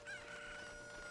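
A chicken in the video game Zelda: Ocarina of Time gives a short, thin clucking call, brief and fairly quiet over a faint background tone.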